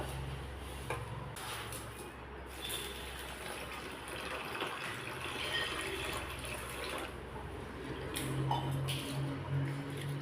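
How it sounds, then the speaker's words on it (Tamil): Water splashes and sloshes steadily as soaked puffed rice is swished and rinsed in a bowl, with a faint tap-like gush running throughout. "தண்ணி விட்டுட்டு ஒரு ரெண்டு டைம் நல்லா கழுவிட்டு பார்க்கலாங்க"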